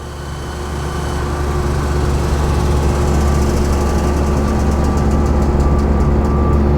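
The hydraulic pump motor of an Enerpac synchronous lift system runs continuously, giving a loud, steady mechanical drone and hum that builds over the first second and then holds level without speech.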